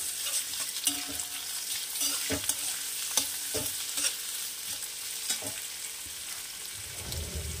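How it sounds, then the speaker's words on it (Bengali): Chopped ginger and onion frying in a pan with cardamom, cinnamon and cloves: a steady sizzle runs throughout, broken by a series of sharp scraping and stirring knocks from a utensil. "এবার এটাকে একটু ভাজা ভাজা করবো।"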